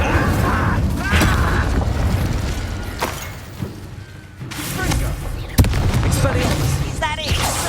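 Incendio fire spell cast during a Hogwarts Legacy battle, a dense mix of crackling fire bursts and heavy booms over steady combat noise, with voices talking in the fray.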